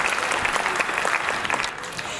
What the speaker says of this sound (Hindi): तालियां बजाकर बताइए।